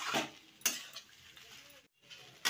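Poha pulao with ghee and shahi garam masala is stirred in a pan, giving a few scraping, clinking strokes of a spoon against the metal over a light background, with a brief silent gap near the end.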